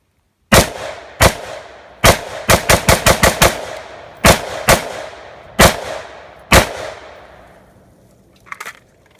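Rifle fitted with a STNGR HWK M-LOK handguard firing at outdoor targets: about a dozen loud, sharp shots, single and in quick clusters, each with a ringing tail, close by, with no talking.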